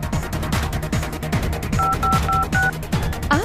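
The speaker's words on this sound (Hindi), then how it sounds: "तू फोन लगा उसे जल्दी।" Phone number being dialed: a quick series of short paired keypad tones beeps out over a busy background with rhythmic music-like thumps, closely followed by a final burst of tones.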